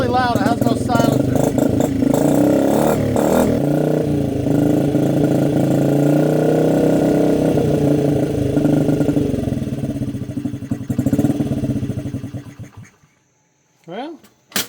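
A Honda CRF 50 dirt bike runs with no silencer, a loud, rough, close engine with fluctuating revs and a flat rear tire nearby, dying away toward the end while a person talks over it.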